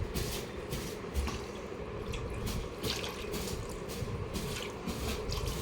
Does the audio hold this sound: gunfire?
no